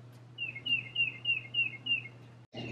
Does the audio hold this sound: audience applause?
no